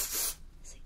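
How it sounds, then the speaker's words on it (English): Hairspray hisses from an aerosol can onto a wig being styled, a single close, bright burst lasting about a third of a second, followed by quiet room tone. "I'm just going to take the hairspray to spray that"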